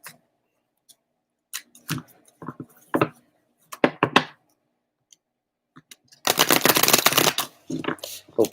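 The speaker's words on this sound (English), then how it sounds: "One more deck to shuffle here." Intermittent riffling and soft flicks of tarot cards being handled, ending in a longer burst of rapid shuffling, close and fairly loud.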